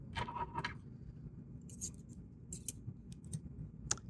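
Scissors snip serger threads after stitching, giving a few short, crisp metallic cuts spaced apart against a quiet background, close but soft.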